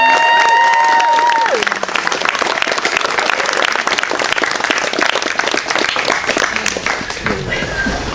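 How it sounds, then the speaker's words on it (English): Wedding guests at a ceremony in the Fig Tree Restaurant break into loud, dense applause for the bride, a sustained wash of many clapping hands with a few cheers, starting just as a short musical tone fades. "Ladies and gentlemen, a round of applause to the beautiful bride."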